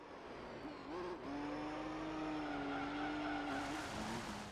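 A race car drifts through a corner in the Gran Turismo 3 video game, its tires squealing in a long steady screech over a loud engine drone, with no talk.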